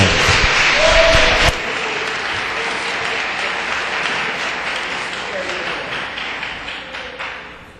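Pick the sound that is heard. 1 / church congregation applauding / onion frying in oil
church congregation applauding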